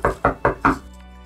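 Four evenly spaced, solid knocks on a door, close and fairly loud, then quiet.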